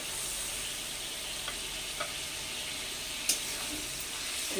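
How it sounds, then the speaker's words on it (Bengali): Potatoes and spices stir-fry in a pan after salt and a splash of water go in for a Malabar spinach chhenchra dish: a steady, close hiss of sizzling liquid with a few light scrapes of the spoon. "জলটা যতক্ষণ শুকনো না হয়ে আসবে ততক্ষণ কষতে থাকবো"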